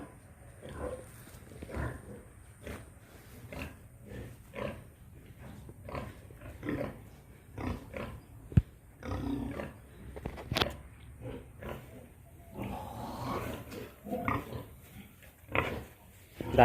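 Pigs at a pig pond by a fishery college in Raha, Nagaon grunt and squeal in irregular bursts, close by, while people talk intermittently over them.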